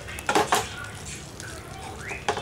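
A spoon scrapes and clinks against a metal pan while lamb spleen fry is stirred with pepper powder, giving a few short sharp clatters close by over a quiet background.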